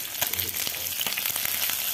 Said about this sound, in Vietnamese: Từ khi mình chiên cá nó vàng hai mặt rồi.